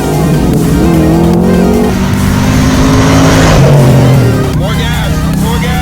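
A Fox Body Mustang's engine hums and rises in pitch as the car pulls away, steady and fairly loud, with voices talking over it.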